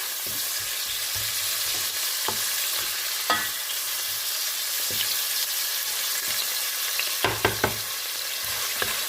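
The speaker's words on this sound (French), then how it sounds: "Je fais revenir mes oignons." Onions fry in a pan for ratatouille as a steady, moderate sizzle, punctuated by scattered utensil knocks and scraping from stirring, with no talking.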